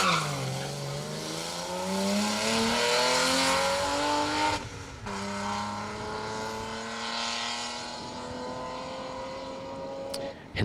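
A rally car on a Manx Rally stage roars past close by, its engine note rising and sweeping down in pitch as it passes, then fading into the distance, with a brief gearshift break midway.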